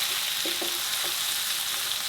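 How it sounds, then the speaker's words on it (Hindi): Garlic and ginger frying in oil in a karahi for dhaba-style chicken karahi, a steady loud broadband sizzle throughout with a few soft stirring knocks, no talking. "2 मिनट हो गए हैं, लाइट गोल्डन सा हो गया है लहसुन अदरक दोनों।"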